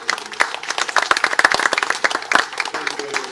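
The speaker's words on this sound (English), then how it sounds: "I want us to give another round of applause to them" Scattered, uneven clapping from a modest audience at a central bank governors' committee meeting, sharp individual claps rather than a full roar, fairly close and moderately loud throughout.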